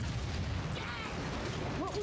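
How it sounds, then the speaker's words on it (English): Explosion aboard a train in the PS2 game Fullmetal Alchemist and the Broken Angel, a dull rumbling boom with a steady low roar under it, then a few short synthetic tones near the end. "What was that? An explosion?"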